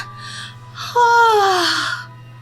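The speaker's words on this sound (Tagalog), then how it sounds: "Huwag kang ang hikab ng hikab dyan." A drawn-out yawn with a gliding, falling voiced tone, close and fairly loud, set in a busy market store scene over a steady low hum, with breathy sounds before it.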